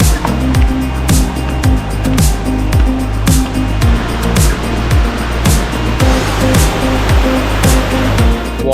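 Rainbow Falls on Harrison Lake roars as a steady, loud wash of falling water, heard up close, with a rhythmic thumping running through it, likely from a boat or paddling.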